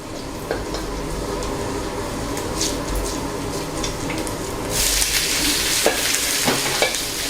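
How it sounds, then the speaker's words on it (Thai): Luffa gourd is stir-fried with garlic in a pan, giving a steady close sizzle broken by stirring scrapes and clicks. Near the end the sizzle grows louder and brighter. "พอกระเทียมเริ่ม เหลือง เราก็จะตามด้วยบวบเลยครับ"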